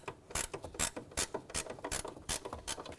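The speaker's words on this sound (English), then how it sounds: "you can go to your ratchet wrench if you have one" A ratchet wrench turns a bolt on the engine torque strut mount of a 2007-2012 Nissan Altima 2.5L four-cylinder, heard as quick bursts of sharp pawl clicks repeating in an uneven rhythm, close and clear with no voices.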